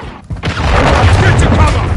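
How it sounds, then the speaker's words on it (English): A cruise missile detonates in a Modern Warfare 3 multiplayer match, a loud sustained boom and rumbling blast filling the scene after a brief lull, with chaotic battlefield noise and game radio voices around it. "Friendly cruise missile deployed."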